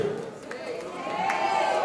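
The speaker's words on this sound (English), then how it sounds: "Another round of applause for this wonderful performance" Audience at a Salangai Poojai dance recital cheering and shouting after a performance, a steady crowd roar with scattered whoops and a sustained voice rising through it.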